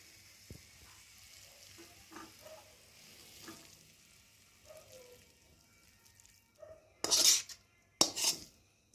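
Maggi noodles tipped from a pan onto a plate, with scattered utensil clinks and soft scraping, then two loud bursts of rustling, splattering sound near the end.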